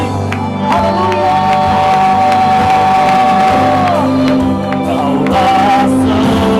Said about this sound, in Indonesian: Mari berikan tepuk tangan sorak-sorak yang terbaik.